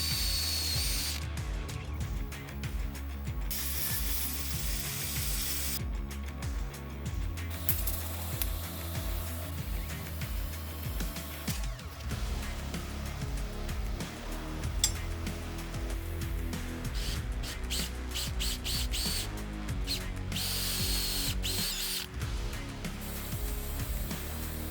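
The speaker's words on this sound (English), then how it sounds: "so we've got to drill it out, get some more fuel flow" Power drill boring out the fuel injector rail of a Nissan Almera, a steady whining motor with gritty cutting noise and repeated short stops and restarts, close and loud with no talk.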